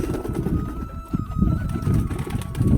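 Pigeons coo in low, soft murmurs from a nearby loft after heavy rain, their continuous burbling overlapping with light background noise.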